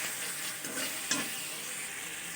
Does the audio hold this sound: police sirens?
no